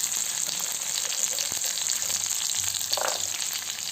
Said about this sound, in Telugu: తర్వాత కరివేపాకు ఒక రెబ్బ వేసుకున్నాను. ఇవన్నీ బాగా ఫ్రై చేసుకుందామండి.